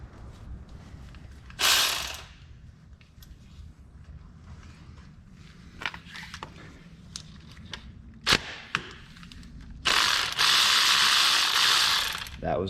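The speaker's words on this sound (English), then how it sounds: "I'll be using a deep 13 with a 3-inch extension, and for the 15, I'll just be using a standard 15 millimeter deep socket." Ratchet with a deep 13 mm socket and a 3-inch extension loosening bolts on a Dodge Grand Caravan oil filter housing: scattered clicking pawl ticks between two louder, longer hissing bursts, close up with no talk.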